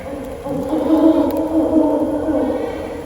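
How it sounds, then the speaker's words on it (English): A fish owl's deep, low hooting call with a moaning, drawn-out tone carries steadily for a few seconds. "That was Midnight Armadillo Fish Owl"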